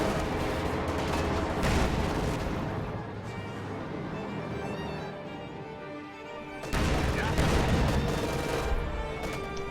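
LEFH howitzer artillery firing in a World War II strategy game, heavy booms and crashing explosions mixed with gunfire, loud and dense with a sharp blast near the end.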